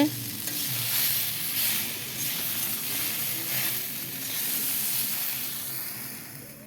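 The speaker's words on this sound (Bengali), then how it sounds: "তেলটা গরম করে তারপর মশলাগুলোকে ঢেলে দেওয়া হয়েছে" A spice paste fries in hot oil with a continuous hissing sizzle, stirred now and then, close up and without any talking.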